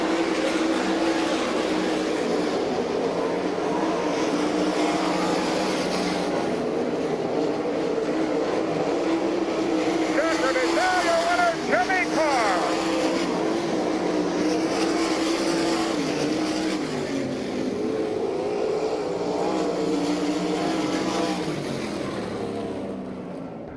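Sprint race cars battling for the lead at Lincoln Speedway in Abbottstown, Pennsylvania, in an All Star Circuit of Champions race in 1999, a dense, continuous engine roar that swells and fades as the field passes.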